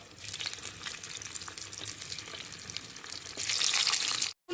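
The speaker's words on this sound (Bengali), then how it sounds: "এবার আলুগুলো এখানে দিয়ে হালকা করে লাল লাল করে ভেজে নেব" Potatoes frying lightly in white oil for a Bengali-style niramish sada aloo dum, giving a steady close sizzle and crackle that swells louder toward the end, with a brief dropout just before it stops.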